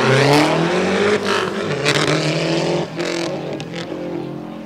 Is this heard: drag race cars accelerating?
yes